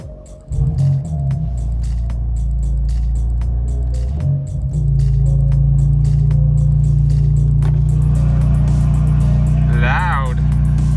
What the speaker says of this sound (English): Best moment of the day, a cold start.